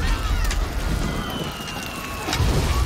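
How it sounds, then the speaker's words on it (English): Heavy rain pours in the animated film A Bug's Life, a dense, steady hiss and roar with scattered drop impacts, loud and close, and no clear speech over it. "I guess rain would kind of be like this for ants"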